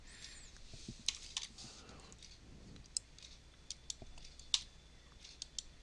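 Keys clatter on a computer keyboard while a Mathcad command is typed, with scattered quiet clicks and taps spread irregularly across a faint, otherwise quiet room.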